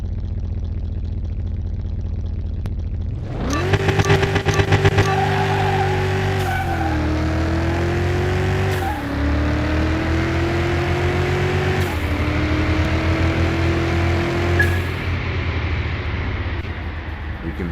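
Race car engines in a Car Mechanic Simulator 2021 race, the Le Mans car against a McLaren, burst into a loud, close roar that climbs through gears in repeated rising whines after a few seconds of quieter rumble.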